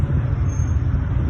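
A train passes behind a person outdoors, a steady low rumble that holds level throughout without any clear rise or fade.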